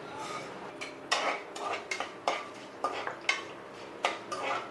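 Fenugreek seeds are stirred in hot oil in a pan, a spoon scraping and clinking against the metal in repeated, fairly close strokes over a faint frying hiss.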